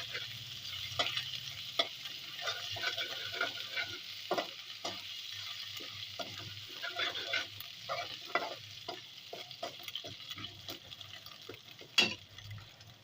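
Garlic ginger paste frying in a pot for chicken pulao, a low steady sizzle broken by frequent stirring scrapes and taps of the spoon, close and quiet, with one sharper clank near the end and no talking.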